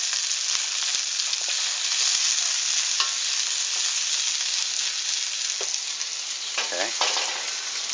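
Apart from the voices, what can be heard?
onions frying in a pan with bok choy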